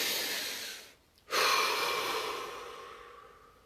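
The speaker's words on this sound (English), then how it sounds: "Take a deep breath." A deep breath taken during a relaxation exercise: a long, close, airy exhale that pauses briefly, then a strong inhale that slowly fades away, with no talking.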